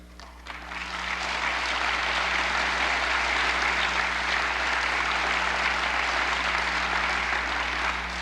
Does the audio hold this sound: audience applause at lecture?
yes